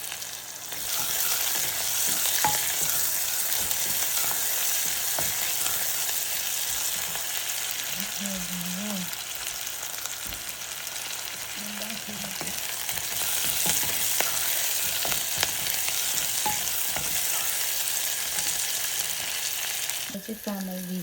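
Sausage frying and being stirred in a pan while making khichdi at home in Japan, a steady loud sizzle throughout with occasional scrapes and clinks of the spoon, faint low voice in places.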